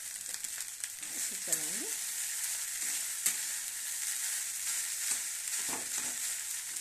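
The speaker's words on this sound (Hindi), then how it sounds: "अब इसमें मैंने ये 2 कटोरी चावल डाल दी," Rice frying in a pan for lemon rice, a steady close sizzle with occasional stirring scrapes, a voice speaking briefly in the middle.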